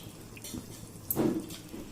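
Water poured into a pan of gravy: a soft, brief splash and trickle near the middle, quiet and close, with no voices.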